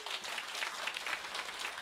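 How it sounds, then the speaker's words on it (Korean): An audience at a company presentation applauds, brisk continuous clapping heard at a moderate distance across the whole short stretch. "박수 한번 쳐봐요"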